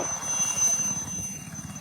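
An army helicopter sits in a Punjab village after an emergency landing, its rotor making a steady, loud drone with a rapid low thumping pulse throughout and no voices.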